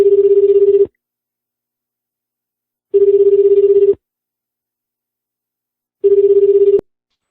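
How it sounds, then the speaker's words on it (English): Outgoing telephone call ringing: three evenly spaced electronic ring bursts, each about a second long with roughly two seconds of silence between, clear and loud with no voices. "I better call them again."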